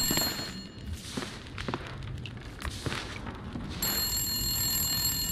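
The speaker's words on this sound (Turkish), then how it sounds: "Telefon nerede? Bak şuradan geliyor ses." A telephone rings in the survival video game The Long Dark, its bright tonal ringing bursts repeating over a busy background of thumps and game ambience, with a sustained ring near the end.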